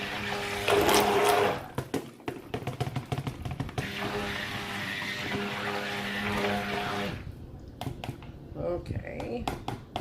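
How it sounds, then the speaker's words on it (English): An electric blender whirs steadily for several seconds, blending milk for cold process soap, starting and stopping in short bursts near the microphone. "So let me blend the milk up."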